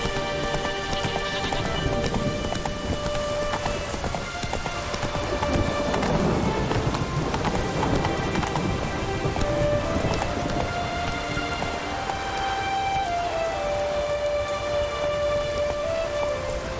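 Geralt's horse Roach in The Witcher 3, hooves clip-clopping steadily under heavy rain with a distant rumble of thunder and background game music tones.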